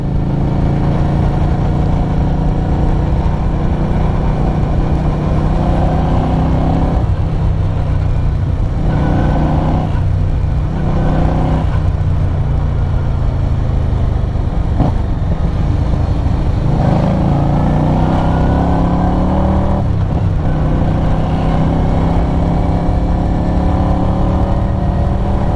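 Keeway V250Fi motorcycle from 2022 on a test ride, its engine droning steadily with repeated rises and drops in pitch as the rider revs and shifts, loud and close with wind noise and no talk.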